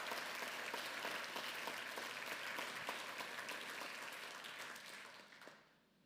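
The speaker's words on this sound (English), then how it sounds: "Yeah, a round of applause." A round of applause from an audience at a charity fundraising event for cancer research, steady dense clapping that holds for several seconds before tapering off and fading near the end.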